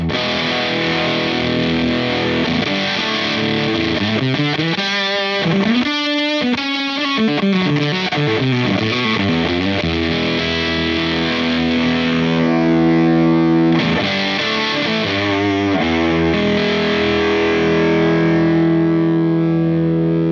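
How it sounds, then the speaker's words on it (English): Heavily distorted, fuzzy electric guitar chords through a HangmanFX DAGG'R gated fuzz pedal, with an abrupt gated cutoff, loud and sustained, playing alone with no voices. "Gated fuzz."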